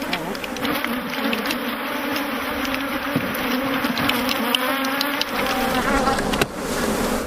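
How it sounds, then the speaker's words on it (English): Honeybees from an African frame hive produce a steady, dense buzz that continues throughout, with a constant hum and occasional sharper passes of individual bees nearby, and no talking. "These bees will soon sort themselves out and return to their queen."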